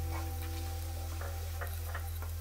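Onions softening in oil in a pan with salt added, giving a steady soft sizzle with faint stirring scrapes and clicks, close and continuous, with no talking.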